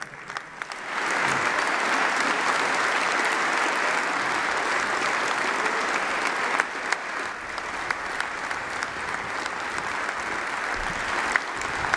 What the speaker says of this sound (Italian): Un applauso a tutti loro.